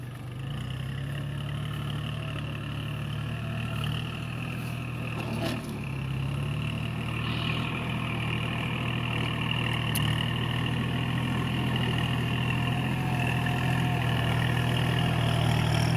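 A Kubota L4018 tractor engine runs steadily with a low, constant droning hum, heard at moderate distance and without interruption, while working in a rainy field for plowing.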